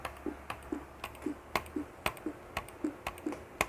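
Rapid, evenly spaced mouse clicks during Minecraft fast bridging, each sharp click close and crisp, with a softer tap in between, about two per second, with no voices.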